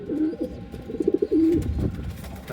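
A racing pigeon, hurt after being blown into a tree by strong wind, gives a short, close, soft cooing phrase with a few low throaty warbles.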